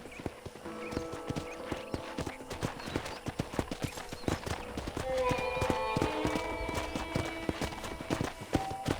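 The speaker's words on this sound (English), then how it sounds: "let's see if you can still ride a horse." Horse hooves clip-clop at a steady riding pace in the Red Dead Redemption video game, close and rhythmic, with a short whinny mixed in and game dialogue and background music playing underneath.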